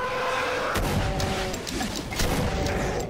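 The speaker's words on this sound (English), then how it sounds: "I heard an explosion and then all of a sudden I'm at the next level." An explosion goes off in the video game Congestion 1024, a dense rumbling blast mixed with sustained booming game noise, loud and continuous with no speech.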